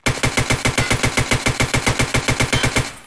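A TX-15 rifle fires from the hip in Escape From Tarkov, a long, steady full-auto burst of about twenty-five evenly spaced, loud, close shots, cutting off sharply at the end.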